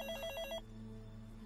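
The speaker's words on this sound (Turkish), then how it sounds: "Ev telefonu alev olabilir." A home landline telephone rings with a bright, rapidly trilling electronic bell for about half a second, then cuts off, leaving a steady low room hum.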